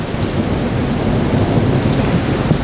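Steady rain falls outdoors beside a wall, a dense continuous hiss of drops on surfaces with a low rumbling undertone, close and fairly loud with no talking.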